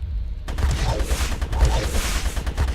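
Rapid gunfire in the GRAV video game, a dense continuous volley of loud shots with no pauses.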